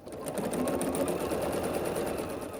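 Close, steady mechanical hum and rapid needle chatter from a sewing machine stitching scrappy sampler quilt squares together into columns, running continuously at an even pace with no talking.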